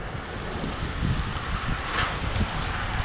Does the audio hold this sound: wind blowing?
yes